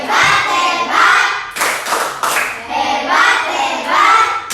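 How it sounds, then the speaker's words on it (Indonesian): Fifth-grade schoolchildren in a classroom clap a rhythmic cheer together, loud bursts of hand claps mixed with children's chanting voices. "Kita beri tepuk hebat dulu. Tepuk hebat."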